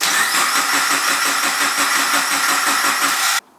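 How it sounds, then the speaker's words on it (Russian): Subaru Legacy BG5 GT engine running after a rebuild, a loud steady rumble with rhythmic low pulses for over three seconds before cutting off abruptly near the end. "мы готовы его завести и протестировать"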